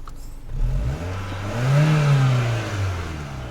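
Peugeot 406 with the EW10J4 engine, showing a hunting idle and a suspected throttle body fault, revs up from idle with a rising, swelling engine note that peaks and then eases back, close and alone.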